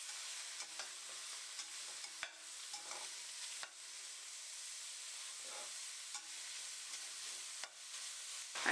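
Kielbasa sausage sizzles in olive oil in a warm pot, a steady soft frying hiss with occasional stirring clicks and scrapes, fairly quiet and close, no voices.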